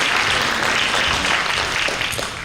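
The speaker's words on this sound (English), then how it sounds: "Let's give her a round of applause and a warm welcome" Audience applause welcoming an assistant principal at a high school 9th and 10th grade orientation, a steady wash of many hands clapping, moderately loud and unbroken throughout.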